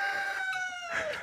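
A rooster crows once among farm chickens on a muddy farmyard, a single drawn-out call that is close and clear with no talk over it.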